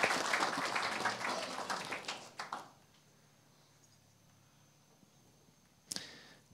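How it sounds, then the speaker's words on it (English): Staff at a company town hall in Prague clap briefly, with a burst of applause that fades out after about two and a half seconds, followed by quiet room tone and a single sharp knock. "I think we can give ourselves an applause"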